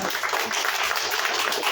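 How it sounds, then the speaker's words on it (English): Dense applause from a crowd at a fundraiser and candidates forum, a continuous wash of clapping at steady volume throughout. "Let's give her another round of applause."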